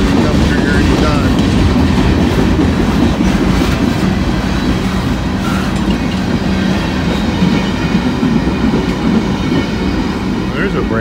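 Freight train rolling past on the rails on a cold day, a loud continuous rumble and rattle of cars with steady clickety-clack and occasional faint wheel squeals, very close.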